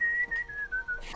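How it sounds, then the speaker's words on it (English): A person whistles a short tune close by, a few clear notes that drift slowly downward in quick bursts, heard alone without speech. "Just whistling."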